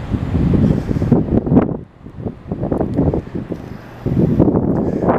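Wind buffets the microphone outdoors at an airport with grounded airliners parked nearby, a loud, low rumbling roar that surges and drops in gusts.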